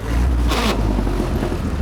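A vintage Indy race car engine revs under heavy throttle with the clutch in, a loud, close, rough roar that surges briefly before settling into a steady drone.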